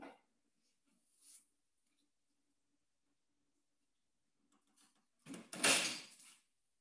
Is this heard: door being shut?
yes